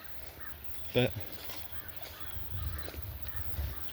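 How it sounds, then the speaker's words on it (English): A crow caws once, close and clear, on a nature walk. Quiet outdoor ambience and footsteps follow, and a person speaks briefly. "I don't know what you can hear right now, probably my steps and birds."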